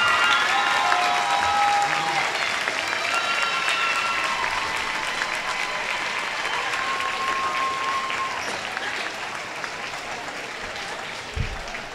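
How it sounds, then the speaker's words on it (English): A crowd in a high school girls' basketball gym applauds the seniors with broad, sustained clapping. Cheers and whoops ride on top, and the sound slowly fades toward the end. "Ladies and gentlemen, have a nice round of applause for all of your seniors."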